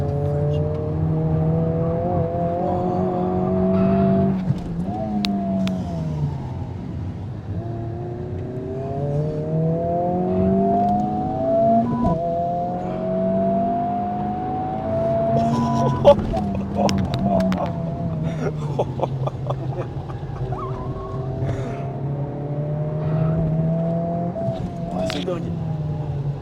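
A road car accelerates hard around a race track, its engine rising and falling through repeated gear pulls in a loud, continuous drone from inside the cabin, with occasional voices over it.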